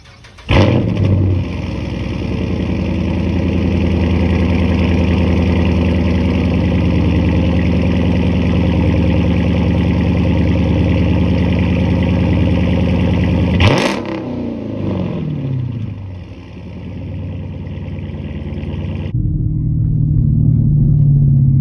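Dodge Challenger R/T with a straight-pipe exhaust on a night drive, a loud, constant deep rumble under steady throttle, a brief shift-like break midway, then a lower idling burble to finish.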